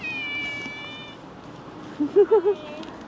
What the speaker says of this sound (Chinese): 一扇门，2种猫声